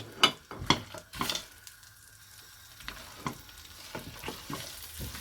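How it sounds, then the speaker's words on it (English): Butter melting in a pan with whole spices and cashew nuts for chicken keema pulav gives a faint, steady sizzle, with a few brief clinks near the start. "Let the butter nicely melt."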